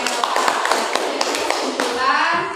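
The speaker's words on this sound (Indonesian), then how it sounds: "Tepuk tangan untuk" Students applaud a classmate in a classroom, a scattered burst of hand claps with distinct taps, with children's voices mixed in beneath.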